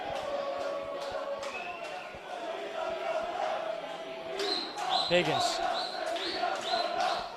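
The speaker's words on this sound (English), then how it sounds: "Hear the cries from the crowd" Crowd at an amateur football cup final cheers and cries out faintly in the distance, a swell of voices rising midway under a commentator's talk.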